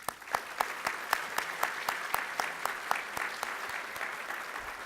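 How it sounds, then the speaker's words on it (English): Audience applause at a city State of the City luncheon: steady clapping from a roomful of people, sustained and even for several seconds with a few sharper individual claps standing out. "give yourselves a round of applause."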